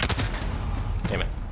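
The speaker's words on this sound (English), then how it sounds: "Rocket away." Rocket launch in a video game: a loud burst of explosive, gunfire-like blasts at the start and again near the end, with busy game noise between.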